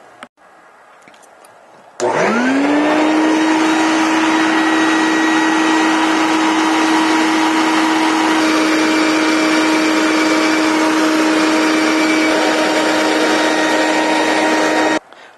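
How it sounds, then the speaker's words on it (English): A drill press working on a bowling ball thumb slug, first drilling down to a stop and then milling off the excess, held to 0 degrees in a KMT personal ball jig: a loud, steady motor whine that spins up abruptly and runs unbroken for about thirteen seconds. "now we're ready to just drill down to that stop and mill off the excess"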